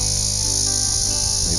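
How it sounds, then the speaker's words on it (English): A loud, continuous high-pitched buzz of cicadas fills a wilderness hiking trail in New Mexico's Gila Wilderness. It is steady and close, with no pauses. "That is the sound of cicadas."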